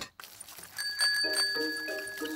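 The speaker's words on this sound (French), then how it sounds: "Et ici, la sonnette." Bicycle bell in a Peppa Pig cartoon rings in a quick series of bright metallic dings, loud and close, with no talk over it.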